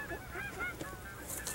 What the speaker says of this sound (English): Geese in your blind right now.